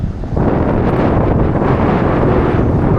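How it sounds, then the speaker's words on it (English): Strong wind buffets the microphone on a lake during a fishing outing, a loud, constant roaring rush that sets in after a brief quieter moment and holds steady. "That wind sucks."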